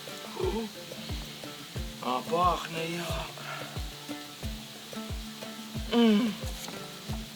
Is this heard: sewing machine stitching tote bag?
no